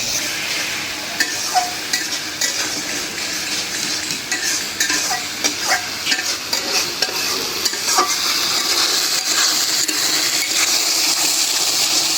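Masala of turmeric, chili and coriander powder sizzles steadily in a hot pan, with a constant frying hiss and occasional scrapes and clinks of a stirring spoon close up.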